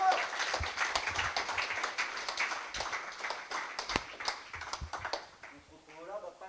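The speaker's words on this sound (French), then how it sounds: "qu'on applaudit bien fort, s'il vous plaît." An audience at a mock award ceremony applauds the winning lab, scattered sharp claps and cheers over a few seconds, fairly faint and uneven, with a voice speaking near the end as the clapping fades.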